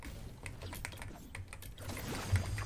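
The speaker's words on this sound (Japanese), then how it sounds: "キーボードの音がいいね。 めっちゃいい音。" Rapid computer keyboard typing during a Fortnite PC session: quick irregular clatter of key clicks, moderately close, over low game background sound.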